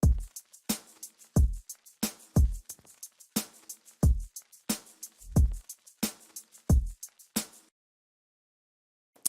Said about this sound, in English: It's just some like white noise crackling, and we've also got a shaker loop.